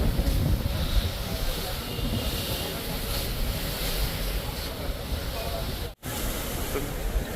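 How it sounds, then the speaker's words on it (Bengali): Passenger launch cruising on a river after fog lifts: a continuous broad rumble of engine and rushing water with wind buffeting the microphone, steady and fairly loud, broken by one brief dropout near the end. "এখন লঞ্চ তার স্পিড বাড়ি এখন চালিয়ে চলে যাচ্ছে"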